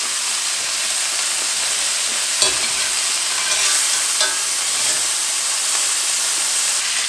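Steak frying in a pan with melted butter and garlic gives a continuous loud sizzle and hiss, broken by a few sharper spatters and crackles as butter is spooned over the meat. No one speaks.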